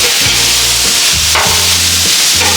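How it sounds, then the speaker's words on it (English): Beef burger patties of organic ground beef sizzle steadily on a Blackstone Bronco 36-inch griddle, a loud continuous hiss broken by scraping spatula strokes as they are pressed and flipped. "you can press it for an extra sear, and we'll go in for the flip"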